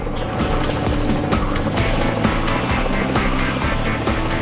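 A steady, loud rotor drone with rhythmic chopping pulses, like a helicopter close by, continuous throughout with no voices.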